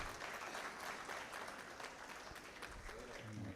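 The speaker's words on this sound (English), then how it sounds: "Let's give them all a warm round of applause as they join us on stage." Conference audience applauds as officials join the stage, a dense steady wash of clapping throughout with some faint voices underneath.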